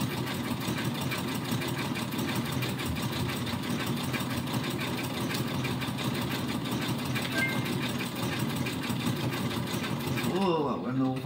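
A sewing machine stitching with a twin needle runs in a steady, fast mechanical whir and rattle, loud and close throughout, slowing at the very end.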